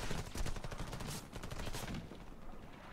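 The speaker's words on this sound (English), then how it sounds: "Stop shooting at me, you idiot" Gunfire in the PC shooter Warface on the Dock map, with rapid automatic bursts crackling in a steady stream of close shots that thin out toward the end.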